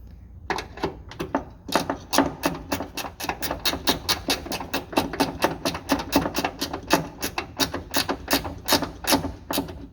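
A ratchet turns a 10mm socket on a 1991 Suzuki Jimny during headlight work, giving fast, close, repeated clicking in steady bursts, with no talking.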